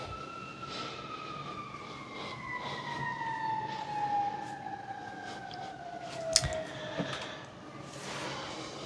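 Emergency sirens wail in the distance, their long descending tones sweeping steadily over a low background rumble, with a brief sharp knock partway through.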